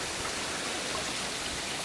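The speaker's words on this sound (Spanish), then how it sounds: "y una cascada." A small garden waterfall beside aquatic plants on a rustic estate in Ferreries, Menorca, gives off a steady broadband rushing hiss, constant and moderately loud with no talking.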